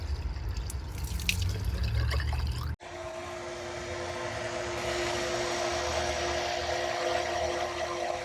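Newly installed well pump purging air from the plumbing, water sputtering and gushing from an outlet in a continuous rushing spray with a hum, then an abrupt cutoff and a steadier flow with a tonal whine, close and loud.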